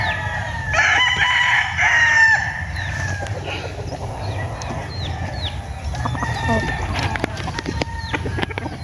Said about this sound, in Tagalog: Ito pa yung ito pa yung iba nilang manok.